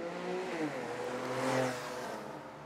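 Several classic race cars accelerate together off the line at a rolling start at Classic Race Viborg, engines rising and overlapping in a loud, continuous roar that swells and then eases slightly.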